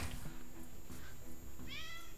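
A cat meows near the end, a rising-and-falling call over a steady background hum with faint low noise.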